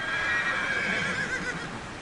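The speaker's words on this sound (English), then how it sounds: "This is farming Kyrgyz style, and Munabek's horses run wild up here." Horses roaming free on a hillside farm in Kyrgyzstan give a drawn-out, wavering whinny that carries over a steady outdoor rumble, with faint hoof clops beneath and no talking.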